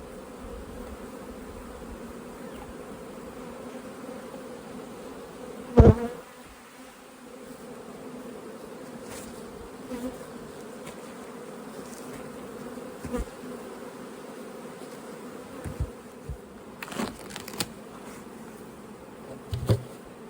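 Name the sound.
bees buzzing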